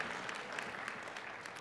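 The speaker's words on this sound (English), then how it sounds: "You can give her a round of applause" Faint round of audience applause in a church or lecture hall, a soft even patter of many hands clapping at a distance without talk.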